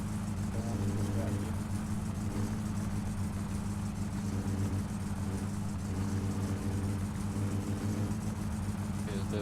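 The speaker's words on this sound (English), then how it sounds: "the engine is too loud for me to hear you" A car engine runs steadily in the video game My Summer Car, a loud, low droning rumble with slight rises in pitch, while muffled voices talk beneath it throughout.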